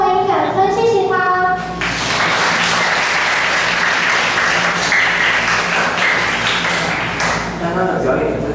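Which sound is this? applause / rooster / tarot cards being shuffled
applause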